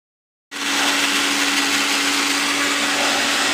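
A kitchen grinder whirring as it blends spice paste with sour yogurt, starting abruptly and running as a loud, steady motor drone until it stops.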